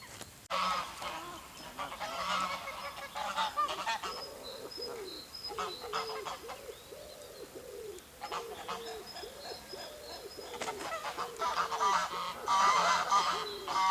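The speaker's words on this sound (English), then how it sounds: "All the geese are blagging for nesting rights on the island there." Several geese honk repeatedly and noisily nearby on a lake island during nesting season, calls overlapping in bursts with brief lulls between.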